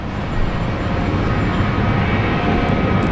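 Qantas airliner departing Brisbane International Airport, a loud continuous jet engine roar with heavy low rumble, steady and sustained throughout.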